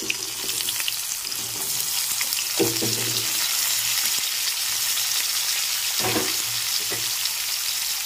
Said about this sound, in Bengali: এবার এই তেলের মধ্যেই পেঁয়াজ কুচিটা দিয়ে দিচ্ছি, ভেজে নিতে হবে। আর দিয়ে দিচ্ছি আলু টুকরোগুলো।